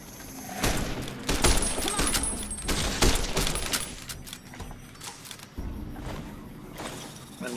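Gunfire from a 5.56 rifle in Fallout New Vegas, a run of sharp shots in irregular bursts, close and loud, mixed with a voice talking over the action.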